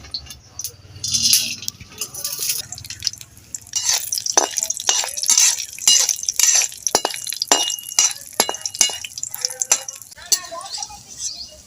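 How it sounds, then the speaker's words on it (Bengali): Lentil dumplings (bori) fry in hot mustard oil in a kadai while being turned, producing sharp, irregular metallic clinks and scrapes over a light sizzle, close and fairly loud. "এবার আমি বড়িগুলো ভেজে নেব।"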